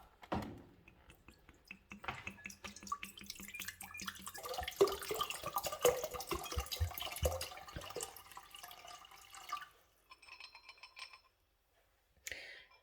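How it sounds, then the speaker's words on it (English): Water pours into a container to make a 1-litre batch of fermented ginger beer, with trickling and splashing rising then tapering off, followed by a few clinks and short bursts near the end. "the first thing I need to do is add in 1 litre of water"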